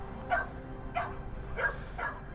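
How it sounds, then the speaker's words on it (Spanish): Semi-wild dogs on the Theban mountain slopes bark four times at a steady spacing, somewhat distant, over a low background hum. "De fondo escucharéis los perros casi salvajes que viven en estas laderas de la montaña tebana"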